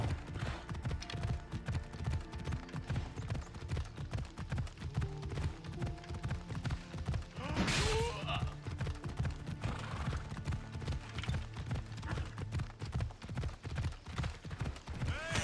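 Horse hooves clip-clopping steadily at a slow walking pace in Assassin's Creed Odyssey, continuous and close, layered over ambient game sounds with a brief whoosh partway through.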